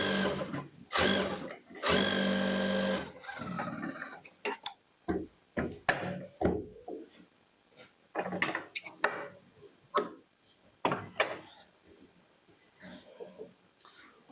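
Sewing machine stitching a pocket onto a kurti, running in bursts of rapid needle chatter with pauses between runs, close and fairly loud.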